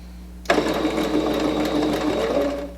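A sewing machine runs steadily for over two seconds, topstitching a fabric tablet holder with a decorative stitch, its close, loud motor whir starting abruptly and stopping near the end.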